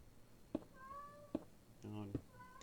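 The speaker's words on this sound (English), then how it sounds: "Oh, no, you're just meowing to meow." A pet cat meows several times in short, separate calls, fairly close and clear, with quiet gaps between each meow.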